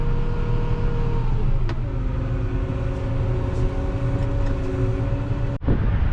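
A John Deere 8300 tractor engine runs loud and close with a steady droning hum. Its pitch shifts slightly as the throttle is adjusted, and a brief click is heard near the end.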